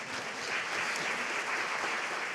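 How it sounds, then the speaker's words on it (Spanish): Audience applause at a talk on health system reform, a dense, even roar of clapping that stays level throughout a short stretch with no voices over it. "Un aplauso para Raúl, por favor."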